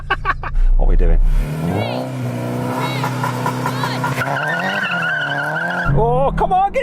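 A Honda S2000 in a racing video game revs hard, its engine note climbing and holding high with tire squeal along the way. Voices talk excitedly over the engine at the start and end.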